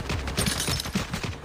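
Rapid gunfire in the online shooter CrossFire, a short burst of several quick shots crackling over a busy, steady background of game noise.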